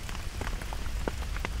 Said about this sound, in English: the tiny raindrops pattering on his umbrella